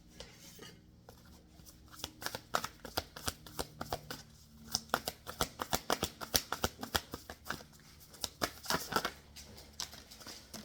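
Tarot cards shuffled by hand, a quiet run of rapid papery flicks and riffles in bursts with brief pauses between them, close up and with no talking.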